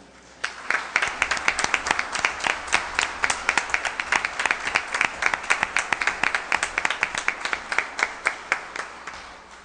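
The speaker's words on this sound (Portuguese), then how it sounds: "eu gostaria de uma salva de palmas" Audience applause at a commemorative session for Black Consciousness Day: dense, steady clapping fills the hall for nearly ten seconds, with individual claps standing out rhythmically above the crowd.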